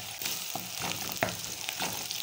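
Onion, garlic and ginger fry in a pan for a Kenyan beef stew, giving a steady bright sizzle with a few stirring clicks and scrapes, close up and without talking.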